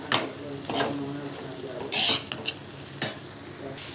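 A spoon stirs semiya upma with coriander in a pan, giving scraping strokes and a few sharper clinks over a light sizzle, with brief louder bursts of stirring.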